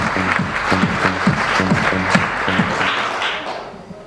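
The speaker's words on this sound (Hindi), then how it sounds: "उनके लिए एक तालियां हम लोग बजाएं।" Audience applause at a police honouring ceremony in Nayitaza, a crowd clapping loudly and steadily throughout with a few voices mixed in, fading slightly at the end.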